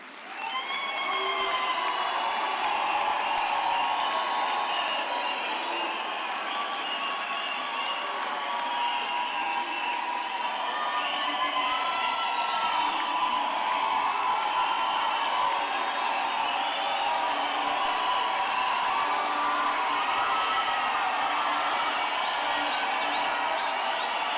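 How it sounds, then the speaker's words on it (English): An audience at a UNISA autumn graduation ceremony gives the graduates sustained, dense applause with scattered cheers and whoops, filling a large hall evenly from start to finish. "let us give the graduates another thunderous round of applause."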